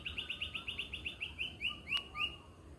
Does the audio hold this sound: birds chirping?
yes